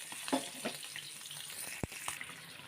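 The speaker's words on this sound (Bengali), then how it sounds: "রূপচাঁদা মাছটা বসিয়ে দিয়েছি ভাজা" Pomfret fish frying in a pan, a steady sizzle with occasional spatters and a sharp pop, close and moderately quiet, with no voices.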